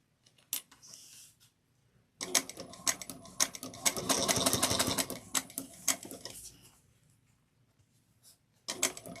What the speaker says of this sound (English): we're going to top stitch it down at 1/8 of an inch